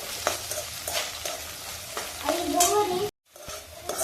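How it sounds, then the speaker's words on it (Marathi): Garlic and chili paste sautéed with onions in a pan, a close crackling sizzle broken by scraping stirs, briefly cutting out before resuming. "आता इथे मी कांदा परतून घेतलेला आहे, त्यामध्ये मी लसूण आणि मिरची यांची केलेली पेस्ट टाकते आणि ती पण चांगली परतवून घेते"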